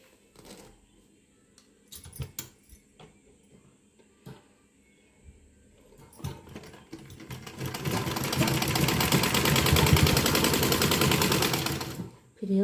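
A sewing machine stitching a dhoti salwar starts with scattered clicks and short bursts, then runs in a sustained rapid whir for several seconds before it stops, with some handling noise and possible faint voices nearby.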